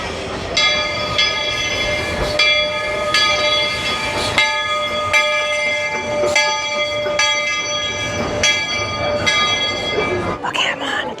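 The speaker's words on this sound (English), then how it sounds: "we're gonna just wait for the next train" Magic Kingdom railroad train pulling into its station, with a ringing bell and sustained whistle-like tones over a continuous rumble of rolling cars, loud and close, with crowd noise in the background.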